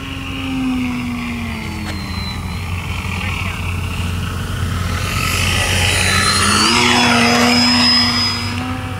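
Scratch-built electric RC Fokker Eindecker WWI scale fighter flying overhead, its motor whine rising and sweeping in pitch as it passes closer in the second half over steady outdoor wind rumble.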